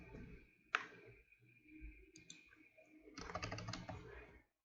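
Keyboard keys typed while setting a password during a Kali Linux installation, a short sparse run of clicks early then a quicker dense burst of keystrokes near the end, close and moderately quiet.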